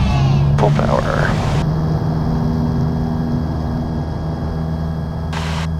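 Small airplane engine runs at full takeoff power on an instrument-practice flight, a loud, steady droning hum with constant tonal harmonics that holds unbroken throughout, with no talk heard.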